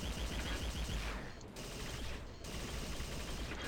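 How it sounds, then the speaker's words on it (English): Rapid, continuous weapon fire from a plasma rifle in the shooter game Lithium, a dense loud barrage that briefly drops out twice before resuming at full intensity. "you see how fast the plasma rifle goes through ammo"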